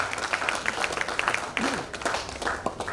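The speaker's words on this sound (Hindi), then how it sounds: "उसके लिए तालियां" Scattered applause from an audience at a heart club meeting in an auditorium in Indore, with sparse, uneven claps, a few voices murmuring over them, and fairly low overall loudness.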